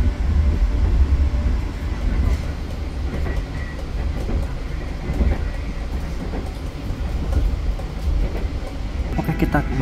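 The KA Mataram train in Indonesia rolls along the rails with a continuous heavy rumble and intermittent clatter of wheels over track joints, heard from on board.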